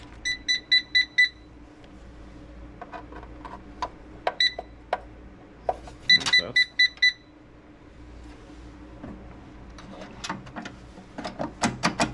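Electronic keypad beeps from a Black Rain Ordnance biometric security safe in short bursts and single tones, with clicks and button presses between them, close and fairly loud.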